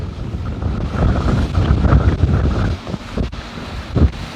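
Strong wind roars and buffets the microphone on a sailboat during the Vintage Gold Cup 2022 race, with rushing water and boat noise underneath, loud and continuous with gusty swells.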